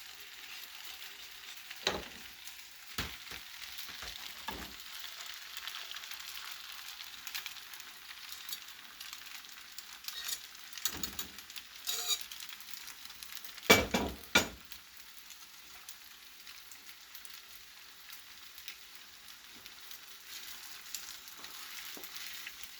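Alfredo sauce added to a hot pan sizzles with a soft, steady frying hiss, broken by scattered clinks and scrapes of stirring, louder around the middle.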